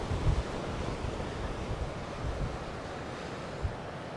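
Wind at the coast in Famara roars and buffets steadily and loudly, with low gusty rumbles and a few sharp thumps, and no voices.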